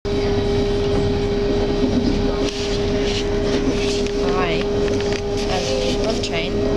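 A train rolls steadily along rails in Berlin, a loud continuous rumble with a steady whine throughout, while people talk and chatter over the top of it.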